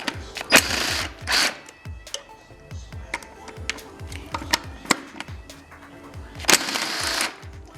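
A ratchet wrench loosening two 10mm bolts on a K series transmission, rapid clicking pawl ticks in repeated runs with sharper metallic knocks between them.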